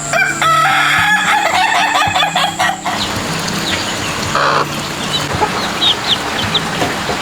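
Chickens at a small farm keeping laying hens, with loud rooster crowing at the start, then softer scattered clucks and bird calls nearby.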